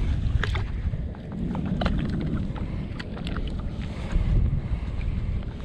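A cold east wind blusters against the microphone on a small boat at sea, a steady low rumble with gusts and faint splashes and creaks on top.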